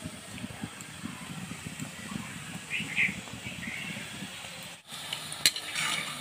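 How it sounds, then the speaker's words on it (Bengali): Sitabhog sweets fry in oil, a faint, steady low bubbling sizzle with occasional soft clinks of a utensil, heard close and without speech. "বাকি সীতাভোগগুলিও আমি একইভাবে ভেজে নিচ্ছি।"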